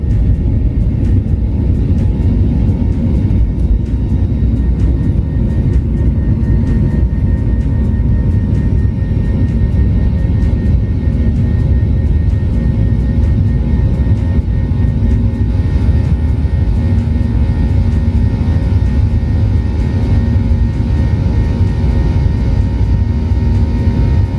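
An airplane's engines roar steadily during takeoff from a quiet runway, a loud continuous low rumble heard from inside the aircraft with no talk.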